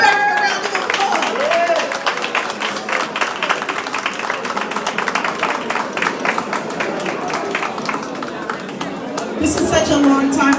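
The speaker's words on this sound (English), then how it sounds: "Let's give Eric a round of applause." An audience at the opening of a museum of African art in Brooklyn applauds Eric with steady, dense clapping that continues throughout, mixed with crowd chatter and a few cheers.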